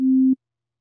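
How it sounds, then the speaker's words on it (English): A pure sine tone from oscillator A of the Operator synth in Ableton Live, a single steady low note held for about a third of a second and then cut off, with silence after. "Let's take oscillator A, which is our sine wave"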